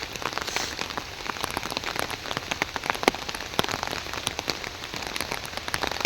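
Steady rain falls in a dense, continuous patter with many sharp individual drops striking a surface, moderately loud and close, with no voices.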